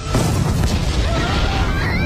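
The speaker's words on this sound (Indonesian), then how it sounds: "Shin tanpa merapal mantra dapat menghancurkan target hingga tempat tersebut meledak" Magic blasts a target apart in an anime fantasy scene, a loud, sustained explosion with a roaring, crackling rumble that fills the whole moment without letting up.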